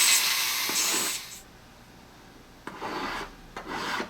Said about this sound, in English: So I'm using a finer file right now